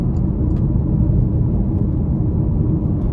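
A 2015 Porsche Macan S with a 340 hp turbocharged V6 pulls hard under acceleration, its deep, steady engine rumble and road roar loud and continuous from inside the cabin.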